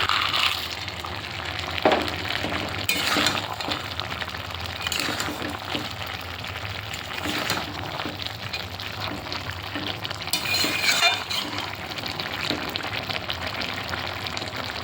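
Fried lentil dumplings dropped into simmering vegetables and Malabar spinach, a continuous close sizzle and bubbling with stirring scrapes and a few soft knocks throughout.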